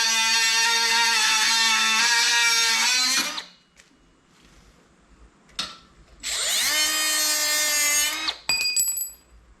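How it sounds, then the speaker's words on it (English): A power tool cuts through a metal column shift linkage part on a car, whining loudly in two strong bursts with a quiet pause between them, then a few brief high metallic rings at the end. "We're gonna cut this baby off."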